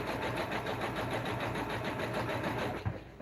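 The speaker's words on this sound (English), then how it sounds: "stitching on some floral pieces, sort of applique. And I'm doing it with a zigzag stitch." A sewing machine runs zigzag stitches, attaching floral applique pieces onto denim jeans, a continuous rapid mechanical whirring with a fast even pulse, close and steady, easing off briefly near the end.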